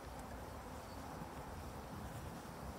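Honeybees buzz continuously at an opened four-frame beehive, a dense, steady hum that stays at an even level throughout with no talk.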